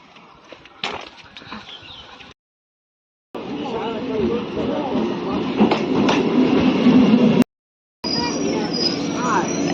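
A train rumbles and clatters steadily, loud and close, with people talking nearby and two brief dropouts in the sound.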